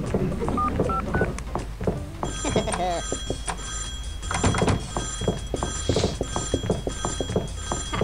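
A telephone handset in a Hello Neighbor mod game gives off sharp clunks and tonal beeps like dialing, with ringing tones layered under steady game sounds and a voice talking over it.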